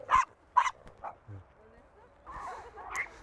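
Dog Sasha, reactive toward other dogs, gives two sharp close barks followed by a softer yip, with low murmuring and rustle between and a louder stretch of mixed noise at the end.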